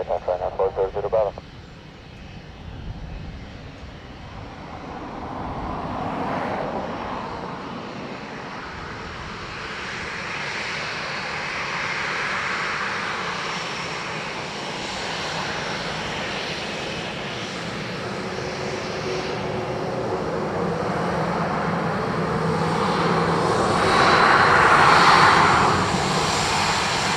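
A Ryanair airliner lands on runway 2 left at Dublin Airport during morning arrivals, its engine roar rising steadily and growing louder over the whole stretch, with brief radio chatter at the start.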